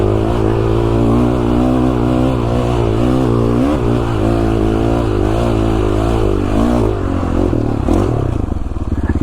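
A Beta dirt motorcycle engine roars loudly and continuously on a mountain ridge ride in Idaho, pitch rising and falling as the throttle changes, close to the rider and easing off near the end.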